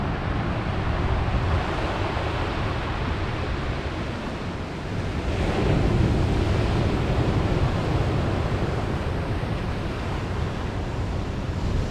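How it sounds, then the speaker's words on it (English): Large sea waves crash on the Bristol Channel shore at Ogmore-by-Sea at night, a loud, unbroken roar of surf mixed with wind buffeting the microphone, swelling slightly midway, with no talk. "some of the waves are huge."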